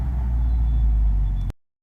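Mercedes CL63 AMG on the move, a deep steady engine and road rumble with wind noise, close and loud, cutting off abruptly after about a second and a half.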